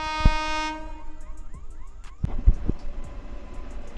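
A Lalgola–Sealdah passenger local train pulls in at a station platform: a loud horn blast with sustained tonal notes opens, then heavy rumbling and clanking of the wagons rolling in close by, with no talk.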